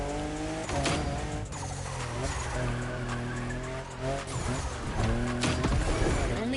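A fifth-generation Toyota Supra in The Crew Motorfest drives hard, its engine droning and shifting pitch steadily while tires squeal and skid through turns, loud and continuous.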